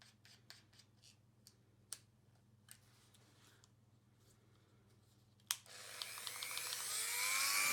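A rotary tool fitted with a small drill bit starts up and carves into junk and 3D-printed parts for a Battletech base, a rising high whine and grinding rasp following scattered ticks and taps from handling beforehand.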